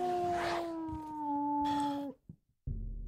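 A dog in the game Oblivion lets out a long, sustained howl that rises and holds before breaking off into a short whimpering tail and then stopping abruptly.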